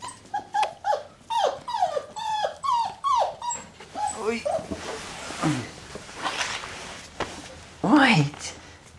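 A puppy barks, yips and growls up close in a rapid series of high bursts, with whimpering squeals and a louder rising cry near the end.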